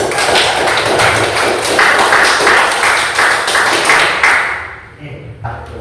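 A classroom of students applauding together, loud dense clapping sustained for several seconds before thinning out and fading near the end.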